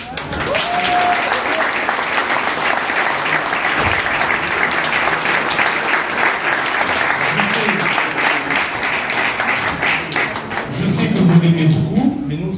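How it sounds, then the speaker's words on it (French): A festival evening audience bursts into sustained, loud applause that fills the hall for several seconds, with the crowd's voices audible beneath the clapping. "Et je crois qu'on peut applaudir Marie-Laure."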